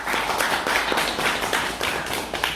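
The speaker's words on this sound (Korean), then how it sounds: "여러분과 함께 박수 쳐드립니다" An audience at a Korean poetry recital concert claps together, a steady, dense patter of many hands heard close and even throughout, with no talking.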